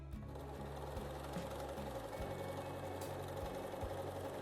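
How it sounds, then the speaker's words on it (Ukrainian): A regular household sewing machine runs a zigzag stitch along a fabric edge for culotte shorts, its motor whirring steadily with a rapid, even mechanical knocking close by, uninterrupted throughout. "Шью я на звичайній швейній машині, зріз буду обробляти зігзагом."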